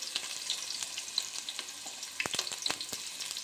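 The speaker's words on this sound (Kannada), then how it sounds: "ಈರುಳ್ಳಿ ಜೊತೆಗೇ ಮೆಣಸಿನ್ಕಾಯಿನೂ ಫ್ರೈ ಮಾಡ್ಕೋತೀನಿ" Sliced onions and green chilies frying together in well-heated oil for a Karnataka coconut chicken dish, a soft continuous sizzle broken by small crackling pops and occasional spoon scrapes, fairly quiet and with nobody speaking.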